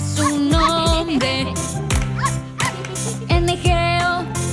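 In a children's Bingo song about a farmer's dog, a dog barks and yips in quick repeated bursts over a bright, loud musical backing, mixed into the song rather than heard alone.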